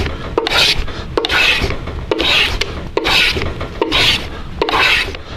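A hand plane shaves a miniature wooden part in a height-adjustable fixture, five or six even rasping strokes repeating in a steady rhythm, loud and close with no talk.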